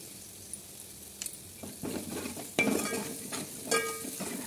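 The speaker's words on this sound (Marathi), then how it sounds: "थोडं भाजलं की हे सुक्या लाल मिरच्या टाकून द्यायच्या मधामध्ये।" Dried red chillies and asafoetida frying in a pan for dahi kadhi, a soft sizzle under scattered stirring scrapes and a few sharp utensil knocks, with no talking.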